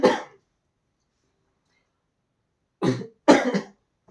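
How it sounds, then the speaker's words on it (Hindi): A single short cough, then a pause of silence before two more quick coughs in a row, close to the listener. "सॉरी, खांसी आ रही है।"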